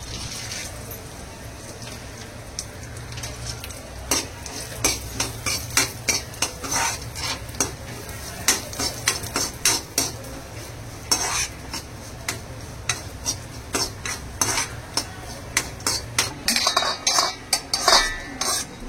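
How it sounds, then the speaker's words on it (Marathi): Cashews and almonds dry-roasting in a pan, stirred constantly: repeated scraping and clinking strokes of a spoon against metal over a soft background sizzle, growing busier toward the end. "आता आपण काजू बदाम भाजून घेऊया."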